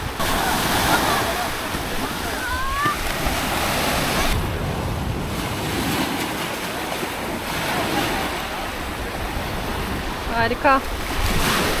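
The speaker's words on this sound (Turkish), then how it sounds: "bugün biraz fazla dalga var denizde" Heavy surf rolls and breaks steadily on a beach along the sea near Gümülcine (Komotini), with choppier waves than usual, under wind buffeting the microphone; a person speaks briefly near the end.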